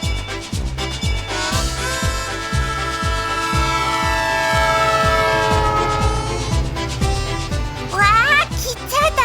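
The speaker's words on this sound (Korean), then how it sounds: "아유, 기차 소리" A train rolls by with a rhythmic clickety-clack and a long sustained horn blast, loud and close, over a steady musical bed.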